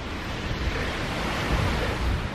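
Ocean surf rolls at Hojo beach in Tateyama, Chiba, on a rainy day, with broad steady wave wash and some wind noise on the microphone, and no voices.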